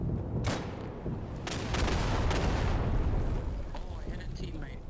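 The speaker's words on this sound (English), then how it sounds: "I called an artillery there" A called-in artillery strike lands in Battlefield 1, a heavy booming barrage with several loud blasts and sharp cracks over rumbling battle noise.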